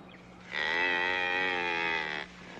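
A single long, steady moo from a cow on a cattle range, loud and fairly close, held for nearly two seconds over a quiet background.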